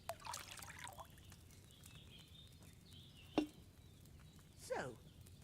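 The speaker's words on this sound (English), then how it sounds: "What are you waiting for? Pour it in there." Wine pours into a cauldron in a video game: a faint liquid burble early on, a sharp tap midway, and a second brief pour near the end, all over a quiet background.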